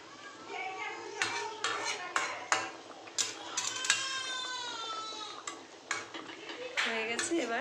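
Fish being stirred into curry gravy in a pot, a run of clinking metal spoon-on-pot scrapes and knocks in an irregular rhythm, close, with occasional voices in the background.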